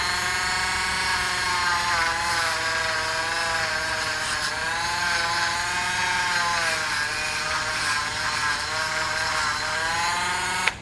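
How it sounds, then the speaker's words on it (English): A Dremel rotary tool runs lightly over the wheels of a model railway locomotive, a loud, steady high-pitched whine with a faint wavering pitch, holding continuously for about eleven seconds. "I just get the Dremel here and give it a very,"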